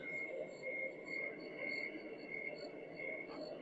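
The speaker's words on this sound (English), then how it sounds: "it has summer night" A Homedics sound machine plays its summer night setting, a steady chorus of frogs and crickets with repeating high chirps over a dense, even bed of croaking, continuous and fairly close.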